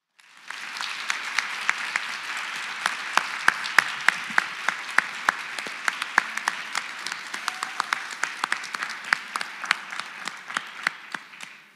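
Audience applause at an alumni of distinction awards ceremony, a steady wash of many hands clapping with sharp individual claps standing out, sustained throughout and tapering at the end.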